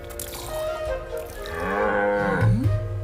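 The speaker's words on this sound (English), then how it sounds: "Nice cow." A cow moos in an anime scene, a drawn-out bellowing call rising and bending in pitch over a steady background, fairly loud and close, with no talking over it.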